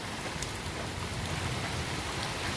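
Heavy monsoon rain falls steadily in a rural Gujarati farm setting, a dense continuous hiss of drops close by with no gaps and no voices.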